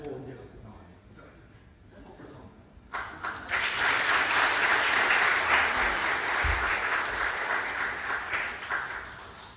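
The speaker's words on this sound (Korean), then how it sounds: "박수 한번 해주시기 바랍니다." A church congregation bursts into applause during a Sunday worship service, starting abruptly after a few seconds of quieter room sound and continuing as a loud, dense wash of clapping, with voices underneath.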